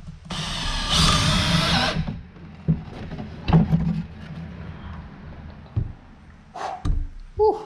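A power drill drives screws into wood in a loud, whirring burst of about two seconds, followed by quieter knocks and handling sounds.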